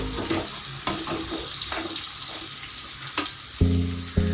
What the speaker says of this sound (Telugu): నేను ఒక పెద్ద ఉల్లిగడ్డ తీసుకున్నానండి, ఇవి ఉడుకునే వాళ్ళు. కొంచెం లైట్గా బ్రౌన్ కలర్ వస్తే చాలండి